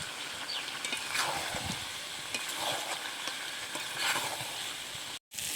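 Potatoes and tomato fry with meat in a pan. A constant soft sizzle runs under repeated spatula scrapes and stirring, and it cuts out briefly near the end.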